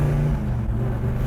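A car engine revs at partial throttle while driving in traffic, a steady low rumble with dense bass harmonics that holds loud and close without any talk over it.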